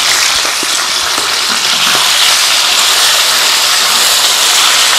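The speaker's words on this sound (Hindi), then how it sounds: "अच्छी तरह इसको भूनते हैं।" Kaleji (liver) frying with garlic and ginger, a loud, dense, continuous hiss of hot oil with occasional faint stirring knocks underneath and no talk.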